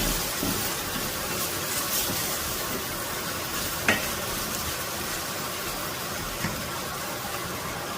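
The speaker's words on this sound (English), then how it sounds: "You saute until it begins turning brown." Carrots and onions sautéing in a pan for a fish stew, a steady broad sizzle throughout with an occasional faint stir or scrape, close up and without speech.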